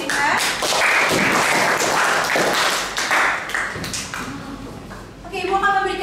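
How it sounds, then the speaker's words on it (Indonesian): Classroom students clapping for a classmate, a dense burst of hand claps filling most of the moment before fading, with a voice starting to speak at the end. "Beri tepuk tangan untuk Saihan"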